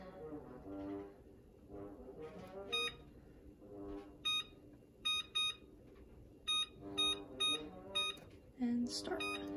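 Dryer timer being set to about 45 minutes, giving a run of short, bright electronic beeps in clusters over quieter background sound in a room.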